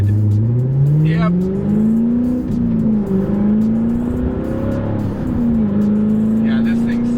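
A C7 Corvette fitted with an AWE Track Edition axleback exhaust and X-pipe revs hard, its loud engine note rising and settling in long sweeps while people talk over it.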